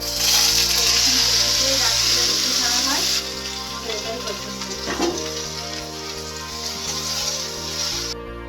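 Colocasia greens fry in a pan with a steady, close hiss and soft spatters, while faint voices murmur in the background.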